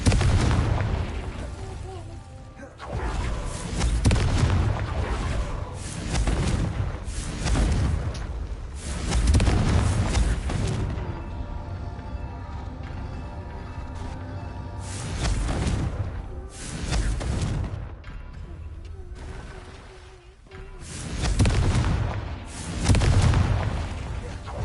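Confringo blasting spells in Hogwarts Legacy go off as a run of heavy, booming explosions, several loud blasts in irregular succession with rumbling tails, and a voice is heard talking between them.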